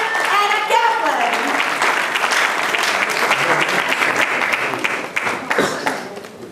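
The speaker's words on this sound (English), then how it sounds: "Another big round of applause for Honorable Anna Kaplan." Audience applause at a state senators' victory celebration, a sustained crowd of clapping hands filling the room, loud and steady with a voice over it at the start, tapering slightly near the end.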